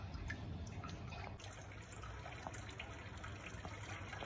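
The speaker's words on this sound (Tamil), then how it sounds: "பாருங்கள், தண்ணி இந்த தொட்டிகள்லேருந்து விழும்." Water pours steadily from the tanks of a home aquaponics setup, a continuous, fairly quiet splashing and trickling wash with no pauses.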